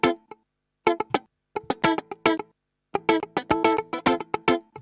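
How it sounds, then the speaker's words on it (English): A funky electric guitar plays tight, choppy muted strums in syncopated bursts with short gaps between phrases, dry and close with no talking. "he added one more guitar at the end"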